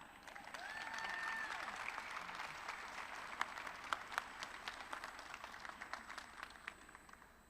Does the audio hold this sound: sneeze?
no